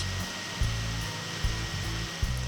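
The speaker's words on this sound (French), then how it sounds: "Il suffit ensuite de le mixer." Steady motor whir of a blender mixing buckwheat bread batter, a constant close drone with a few faint periodic thumps, no talking.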